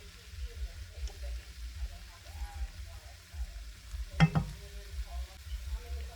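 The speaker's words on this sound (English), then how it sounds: "I'm going to go ahead and break it all up and get it distributed amongst the rest of the ingredients" Ingredients being stirred and broken up in a hot pan during a quick weeknight stir-fry, with soft scraping, a low crackle and one sharp utensil knock against the pan partway through, all under a steady background hum.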